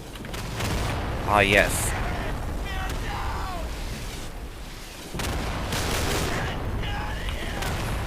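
Distant and nearby rifle and machine-gun fire crackles throughout a World War II battle in the shooter game Day of Infamy, continuous and layered, with a player's voice talking briefly over it.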